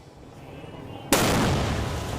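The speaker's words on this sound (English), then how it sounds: "Ooh, truck did go boom." An armored truck loaded with illegal fireworks detonates in a sudden loud blast that fills the sound and keeps roaring as a dense, sustained rumble after a quieter stretch of background noise.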